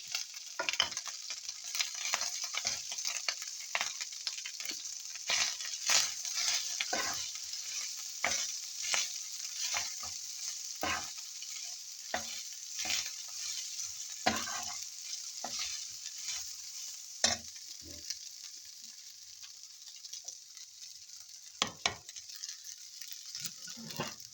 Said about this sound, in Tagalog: I have leftover rice, so I have to fry this one